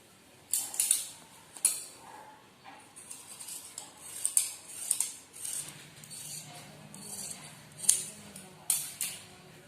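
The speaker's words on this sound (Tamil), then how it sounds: "இப்போ நம்ம கோடு போட்ட இந்த பகுதியை மட்டும் கட் பண்ணி எடுத்துக்கலாம்." Scissors snipping through old leggings fabric while shaping a DIY foot mat, a series of sharp crisp cuts at irregular intervals with quiet gaps, close and clear, with faint background voice.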